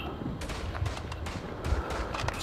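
Gunfire from the World War I shooter Verdun, a quick scatter of distant and mid-range rifle shots and crackling bursts popping irregularly over a constant battlefield rumble, with no talking.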